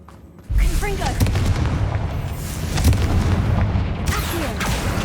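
The Confringo blasting spell goes off in Hogwarts Legacy, a sudden heavy boom after a quiet moment, followed by crackling bursts and rumbling impacts, with a second loud hit near the end.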